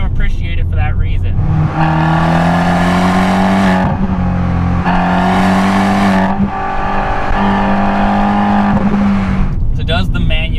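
A Fiat 500 Abarth with a manual gearbox revs hard in a loud, close engine note, with a steady tone rising and falling through three surges and short pauses between them.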